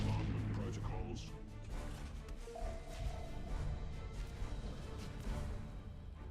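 Artillery bombardment in the space strategy game Battlefleet Gothic Armada 2, a dense continuous rumble of distant booms and blasts rolling on without pause, fairly quiet overall, with a voice speaking over it.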